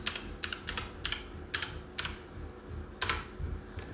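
Someone types a command at a computer keyboard, giving quiet, close key clicks in uneven bursts over a low steady hum, with no talk.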